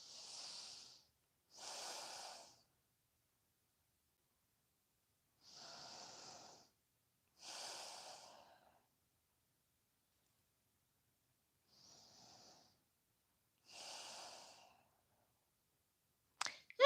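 Slow, steady nasal breaths during a yoga session, six soft airy inhales and exhales spaced a few seconds apart in near silence, close and faint, ending with a brief sharper rustle.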